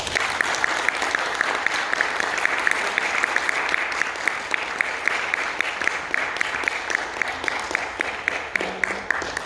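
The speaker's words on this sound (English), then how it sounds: "So give them applause" A concert audience applauds musicians performing classical music, a sustained even wash of many hands clapping across the hall for over nine seconds, with a few sharper individual claps standing out near the listener.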